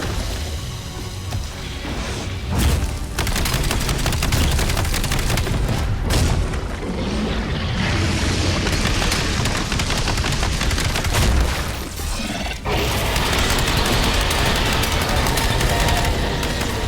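A thrown grenade detonates amid heavy video-game gunfire in a fight with a T-Rex, a dense, loud barrage of rapid shots and booming blasts filling the scene almost without pause.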